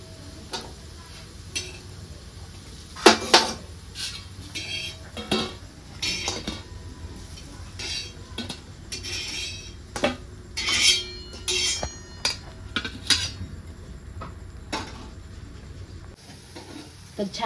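A cabbage and egg breakfast is lifted off a pan onto a plate: scattered metallic scrapes, clinks and taps from a spatula over a faint background sizzle.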